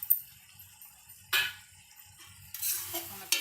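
Fried bottle gourd sabzi being stirred in a pan, a few soft scraping strokes and a light sizzle in short bursts between quiet pauses, close and faint.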